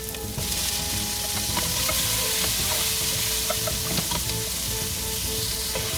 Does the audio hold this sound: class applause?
no